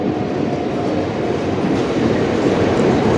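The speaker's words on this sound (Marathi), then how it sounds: "चला आली फायनली आपली लोकल" A Mumbai local train, a Borivali slow service at Andheri station, roars close and loud with a dense, continuous rumble of rolling carriages and no speech.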